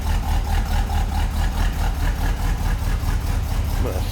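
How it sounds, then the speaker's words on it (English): A 1971 Mercury Cougar's 351 V8, fitted with a new Edelbrock carburetor and warmed up, idles with a steady, even low rumble and rhythmic pulsing exhaust throughout, close and continuous. "Once the car warms up, seems to idle pretty nicely. A little rumble out of that 351."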